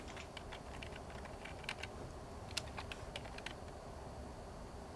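Someone types on a computer keyboard in scattered bursts of light clicks, faint and distant under a steady background hum during a livestream.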